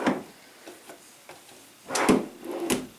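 A wooden nursery drawer slides and knocks shut, with soft scrapes early and two louder clunks near the end, close and alone without speech.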